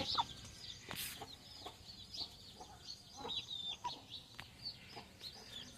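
Chickens cluck and chatter continuously nearby, with scattered sharp calls over a busy farmyard background.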